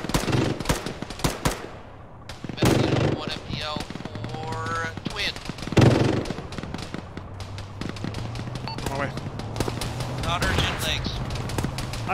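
Gunfire from a BMP armoured vehicle in a military combat video game, rapid bursts and cracks of shots scattered throughout, mixed with other battle noise and voices talking over it.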